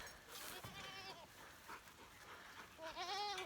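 Several goats bleat in wavering, nasal cries, one after another, fairly close, over a soft background of rain.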